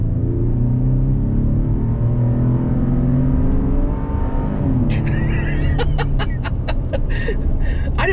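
A pickup truck pulls away from a green light, its engine rumbling loud and close as it accelerates, with a few short, higher engine bursts toward the end.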